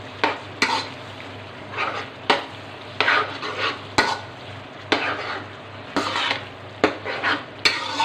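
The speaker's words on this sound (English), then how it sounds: "and mix everything." Mutton makhni karahi with ginger and butter gets stirred in a pan: repeated sharp metal scrapes and clanks of a spoon against the pan come in uneven bursts over a low, steady sizzle, close and fairly loud.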